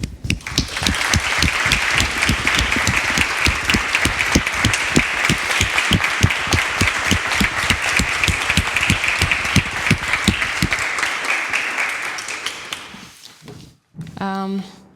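An audience at the Cambridge Union applauds a guest with steady, loud, sustained clapping for about twelve seconds before it fades out, followed by a brief burst of other sound.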